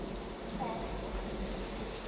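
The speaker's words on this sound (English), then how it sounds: "We make this rain using a really high-tech piece of filmmaking equipment called a sprinkler" Artificial rain sprayed by a sprinkler over a studio backlot street at Universal Studios, a steady broadband hiss of falling water pattering on surfaces, continuous and fairly close, with no voices over it.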